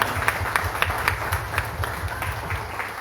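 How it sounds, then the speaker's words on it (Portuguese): A church congregation claps together in steady rhythmic applause, moderately near, with a murmur of voices underneath. "Uma salva de palmas para Jesus."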